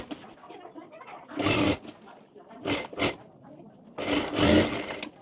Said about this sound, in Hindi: अब यहाँ से यहाँ तक पूरे में सिलाई कर लेंगे।